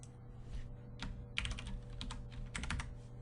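Code typed on a computer keyboard during a C# beginner lesson in Visual Studio, with quiet, close key clicks in uneven bursts and short pauses over a low background hum.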